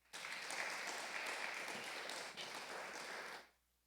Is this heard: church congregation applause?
yes